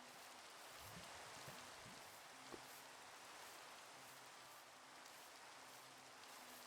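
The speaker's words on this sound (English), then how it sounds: "It started raining." Steady rain in Minecraft with the Cobbleverse modpack, a soft continuous hiss of falling drops that runs unbroken throughout, with faint scattered taps beneath.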